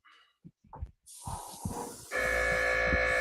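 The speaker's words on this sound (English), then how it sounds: "You see that it's still spraying green." A few soft knocks and rustles, then a steady hiss of liquid spraying that switches on and holds loud and constant to the end.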